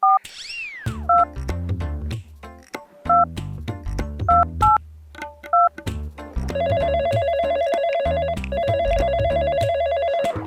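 A phone dials a number with a run of short, clipped keypad tones, then a repeated ringing tone plays in two loud, sustained bursts. It is heard in a Telugu village comedy short film.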